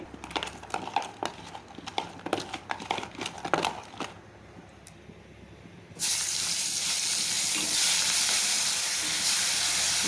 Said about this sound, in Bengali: এখন কড়াই তেলটা গরম হয়ে গেছে এখন মাছ মাছের মাথাগুলো একটু ভেজে নেব